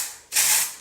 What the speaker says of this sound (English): you shake it to make sure that you stir up all of the ingredients inside to get the most accurate spray.